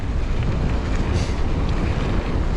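Headwind buffeting a mountain biker riding downhill, a steady loud roar of wind noise across the microphone for the whole moment, no talking.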